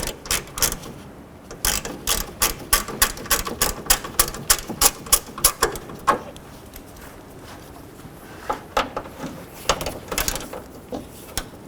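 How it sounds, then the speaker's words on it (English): A No. 5 Allen wrench works a grille mounting bolt loose on a 2007–2011 Honda Civic, giving a rapid run of sharp ratcheting clicks close up, then sparser irregular clicks and taps. "Using a number 5 Allen head, I'm going to go ahead and remove this mounting bolt for the grill"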